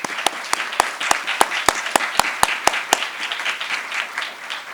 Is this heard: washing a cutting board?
no